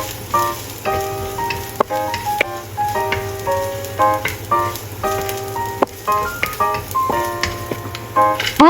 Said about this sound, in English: Stir-fry onion white.